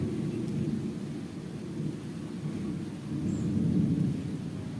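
Thunder from clouds on a hot day rolls as a steady, low, continuous rumble that swells slightly toward the end, heard alone with no voices.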